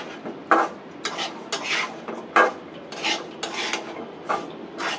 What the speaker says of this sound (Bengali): এখন আমি একটু নেড়ে চেড়ে হালকা পানি দিয়ে ঢেকে দিব